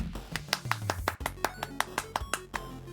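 Rapid, sharp claps ring out in a quick irregular series over a soft electronic background, crisp and close, sound effects in the video game In Stars and Time.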